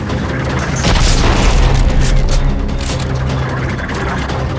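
Rocket explosions in the Dead Space 3 video game form a loud, dense, continuous roar of booming blasts and rumbling debris that fills the whole clip with no pause.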